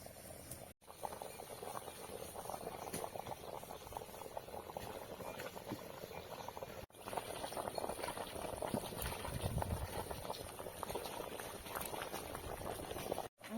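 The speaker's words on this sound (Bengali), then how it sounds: "আমি মাংসটায় জল দিয়ে দিছি এখন মাংসটা অনেক সময় জ্বালিয়ে নিতে হবে" Country chicken curry simmering in water in a pot, village-style cooking: a steady, close bubbling boil with continuous liquid patter and small pops, no voices.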